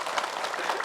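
A studio audience applauds at a televised religious talk show, a dense, steady wash of many hands clapping at once.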